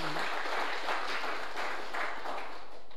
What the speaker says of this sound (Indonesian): Berikan sorak-sorai bagi Allah kita.